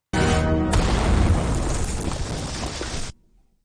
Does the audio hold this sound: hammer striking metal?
no